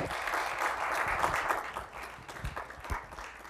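Audience applause at a motivational talk, a moderate burst of many hands clapping with some uneven louder claps, heard at middle distance without speech.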